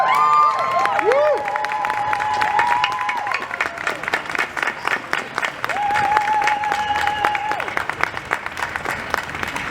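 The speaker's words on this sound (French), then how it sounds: "on peut l'applaudir encore un petit peu" Audience applause and cheering at an occupation event at La Monnaie opera house in Brussels, a dense sustained crowd clapping with whistles and shouts running through it, loud throughout.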